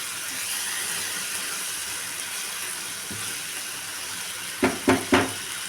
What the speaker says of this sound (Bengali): এখন আপাতত আমি মাথাটা দিয়ে দিচ্ছি মাথাটা একটু মশলার সঙ্গে ভালো করে কষে যাক